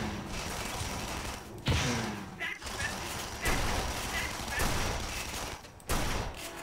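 Shotgun blasts in the fast-paced shooter Tribes Ascend, a handful of irregular booming shots spaced about a second apart over steady game noise, with a player's voice talking in between.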